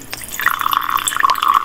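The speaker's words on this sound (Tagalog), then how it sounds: "Puro suka talaga siya. Imumumog ko." Close, wet gurgling of vinegar bubbling in the throat during gargling, a short burst of rapid bubbly sounds without talking.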